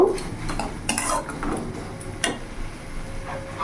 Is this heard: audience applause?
no